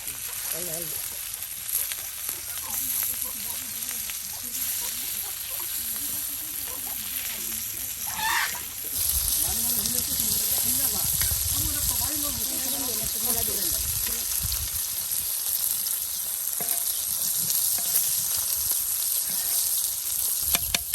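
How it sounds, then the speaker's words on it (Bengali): Fish coated in mustard paste frying in a pan, a steady hiss that grows louder partway through, while people talk over it. "সরিষা বাটা দিয়ে আজকের মাছ ভাজি"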